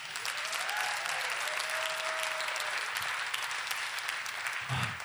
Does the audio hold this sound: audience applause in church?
yes